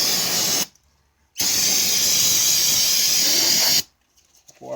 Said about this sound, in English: I want to get brake cleaner all through here.